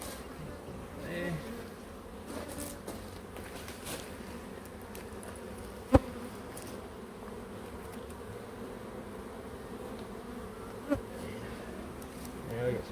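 Bees buzzing inside an open beehive, a soft, continuous low hum close by, with a few faint knocks and rustles from handling the frames and no talk.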